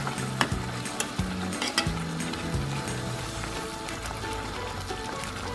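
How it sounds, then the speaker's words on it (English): Baby food ingredients are stirred in a pan on the heat, giving a close, steady soft sizzle with a few scraping knocks from the spoon early on, then a continuous low frying hiss. "Just gently stir it around."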